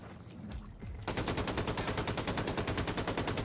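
Rapid automatic gunfire from an enemy soldier in the Wolfenstein II video game, starting after a second of quieter game ambience and then continuing as a loud, steady, fast stream of shots to the end.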